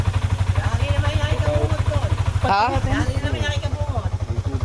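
A stock-exhaust Sniper motorcycle idles with a rapid, even low thrum of engine pulses, close and steady, while someone talks over it and briefly exclaims.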